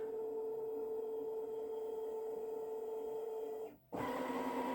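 A Baby Lock Solaris Vision embroidery machine scans with a steady whirring hum and tonal drone, then a brief drop and a shift to a new pitch near the end, heard up close with no talking.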